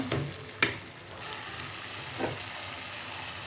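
A spoon stirs salted chicken gravy in a pan, with faint scraping strokes over a soft continuous sizzle and a couple of brief clinks.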